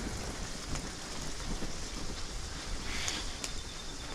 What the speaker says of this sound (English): obviously the second we leave, it starts raining again.